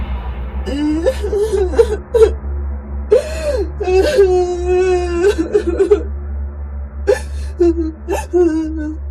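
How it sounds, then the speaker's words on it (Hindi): A small child of about four or five cries in an animated story, a voice actor performing close, whimpering sobs and wailing moans in several bursts with brief pauses between them. "वहाँ उसने देखा कि एक 4-5 साल का बच्चा रो रहा था"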